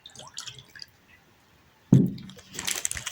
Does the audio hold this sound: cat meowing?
no